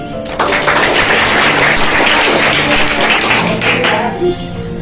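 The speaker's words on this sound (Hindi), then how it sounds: "तो श्रीजा वर्मा के लिए ताली" A school audience claps for a class 8 student called up to give a Teacher's Day speech, loud, dense clapping filling the hall with some voices mixed in before it thins out near the end.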